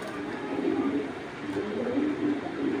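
Giribaz pigeons, a tournament breed in mixed colours, coo in low, soft, steady murmurs from a loft, the sound continuous and close.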